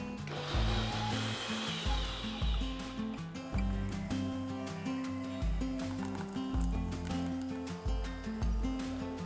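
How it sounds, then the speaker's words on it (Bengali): A grinder blends poppy seeds, green chili and water into a paste, with a continuous loud motor whir pulsing in a steady rhythm of about one cycle per second. "এরপরে এটাকে যতটা সম্ভব মোলায়েম করে বেটে নিতে হবে।"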